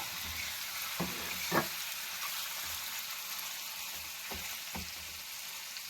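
Desi fish frying in a pan, giving a steady close sizzle with a few sharp spatula scrapes and knocks as it is stirred and turned.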